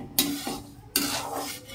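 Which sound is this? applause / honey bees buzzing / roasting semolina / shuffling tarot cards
roasting semolina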